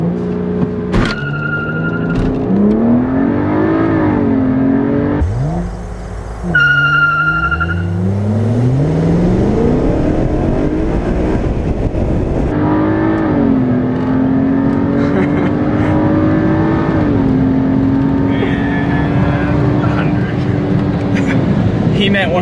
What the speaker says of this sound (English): 135i launch control.